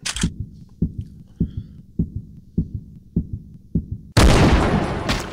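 A sniper rifle in a hunting shooter game fires in a regular series of heavy, thudding shots about every half second, ending in a loud sustained burst of noise.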